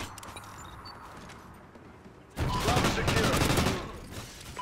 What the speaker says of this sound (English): I think it's a bad submachine gun.